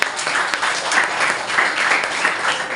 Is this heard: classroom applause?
yes